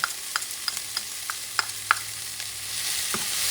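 Chopped garlic frying in oil in a pan for Puerto Rican-style stewed chickpeas, a soft, steady sizzle punctuated by a series of sharp clicks and scrapes as a utensil stirs it, with no talking.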